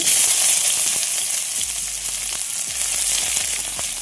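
Chopped onion and garlic paste frying in oil for a banana-flower dish, a steady close sizzle with a few light scrapes of stirring throughout, no voices.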